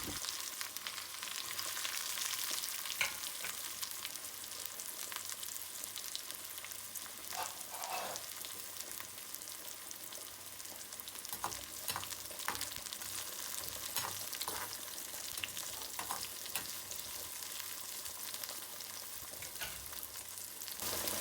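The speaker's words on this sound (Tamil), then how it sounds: "கடுகை போடுவோம் கடுகு வடிக்குது இனி வெங்காயம் மிளகாய போடுவோம்" Onions and chillies frying in hot oil with mustard seeds for a Jaffna-style tempering, a steady broadband sizzle and crackle running throughout with occasional louder pops and stirring clatter, close and continuous.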